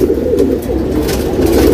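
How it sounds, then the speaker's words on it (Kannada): Pigeons coo steadily and fairly loudly, up close in a dense mix of birds, with no talking over them. "ಹಕ್ಕಿಗಳು ನಮ್ಮ ಹತ್ರ ತುಂಬ ಜಾಸ್ತಿ ಆಗಿಬಿಟ್ಟಿದೆ"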